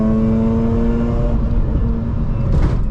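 Mazda Miata pushed hard on a mountain road, its engine note rising in a tight harmonic whine that drops away midway as the revs shift, recorded close from inside the car.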